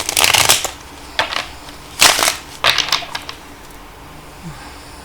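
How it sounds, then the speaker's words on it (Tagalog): Tarot cards being shuffled in a few short, crisp riffling bursts separated by pauses, close to the listener with no voices. "So, balasahin muna po natin."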